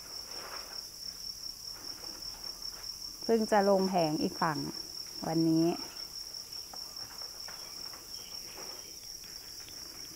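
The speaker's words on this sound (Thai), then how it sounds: "เรียกว่าบ่ออนุบาลน้องจิ้งหรีด" Newly hatched crickets chirp continuously in a cricket nursery pond, a steady high-pitched trill running throughout, while someone speaks briefly in the middle.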